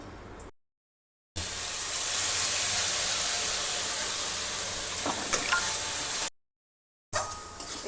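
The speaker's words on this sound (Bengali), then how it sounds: "মশলা টশলা দিয়ে আলু দিয়ে কষাচ্ছি এখন আমি খাসির মাংস" Mutton with small whole potatoes and spices sizzles in a pan over a village cooking fire, a steady broad frying hiss heard close, broken by two abrupt silent gaps.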